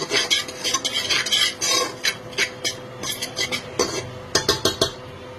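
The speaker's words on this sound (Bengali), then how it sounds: "অ্যাড করে একটু সমস্ত কিছু অ্যাড করে ঘিতে ফ্রাই করে নেব" Dalia with turmeric is stirred while frying in ghee, a spoon scraping and clinking against the pot in quick, uneven strokes over a faint background sizzle.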